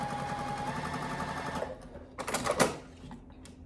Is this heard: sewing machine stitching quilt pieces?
yes